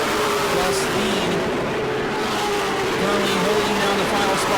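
Pro Late Model race cars roar around the New Smyrna speedway in a continuous, loud, layered engine drone with shifting pitches as the field passes.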